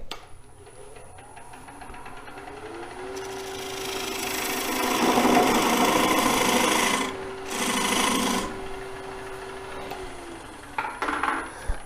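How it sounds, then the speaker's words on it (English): A skew chisel cuts a dovetailed tenon on a bowl spinning on a wood lathe. A raspy, scraping cutting noise builds and swells for several seconds over a steady motor hum, then pauses briefly and returns before fading. "I cut inward a little bit to dovetail it and then flatten out that surface on the bottom"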